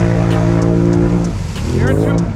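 A Can-Am Renegade 1000 ATV engine revs hard with a loud, steady droning tone that briefly dips and surges again, close by, with people talking over it.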